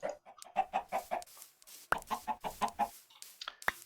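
Chickens in the video game Minecraft give a quick run of clucks, two bursts of short rhythmic calls close up and clear, with no talking.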